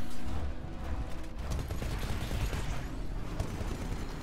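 Sustained gunfire in the Titanfall video game, aimed at a turret: a dense, continuous rattle of shots mixed with mechanical clatter, held at moderate loudness for the whole stretch with no speech.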